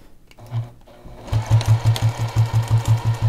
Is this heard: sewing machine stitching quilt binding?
yes